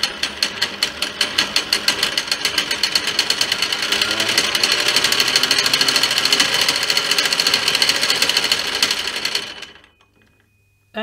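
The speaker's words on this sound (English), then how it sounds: "So I push it and it connects. And the motor starts running." The motor of a motorized guitar pickup winder runs with a loud, fast, steady mechanical whir and rattling pulses, then winds down abruptly and falls silent near the end.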